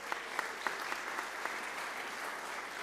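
A conference audience at a party's annual gathering applauds the reception desk team, a broad, even wash of clapping from a large room with a few sharper claps standing out.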